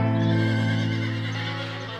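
A horse in a barn stall lets out a loud, sustained whinny that fades over a couple of seconds, heard up close with no talking.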